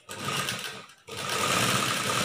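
A sewing machine runs steadily while stitching a chudidar top, whirring loudly and closely with a brief pause before resuming.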